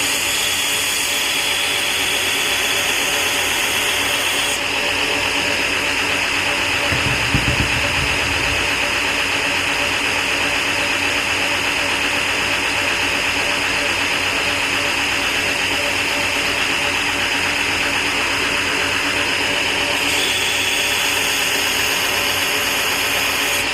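A clipped point knife blade has its bevel ground on a grinder, giving a steady loud whirring grind that holds for the whole stretch, with a short low thump partway through.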